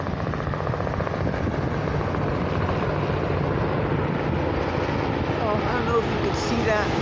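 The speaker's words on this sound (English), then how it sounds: "I think it's a Coast Guard helicopter." A Coast Guard helicopter flying over a beach, a steady, loud rotor and engine drone that fills the whole stretch, with a person talking over it.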